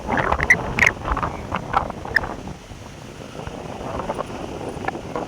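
Strong wind gusts across an open rooftop, a steady rushing roar that buffets the microphone with heavy low rumble, swelling and easing with no one speaking.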